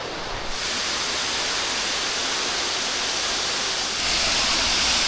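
Waterfall pouring and splashing onto wet ground beside a bamboo-lined nature trail near Chiang Rai, a steady, close, full roar of rushing water that swells slightly louder near the end, with no voices.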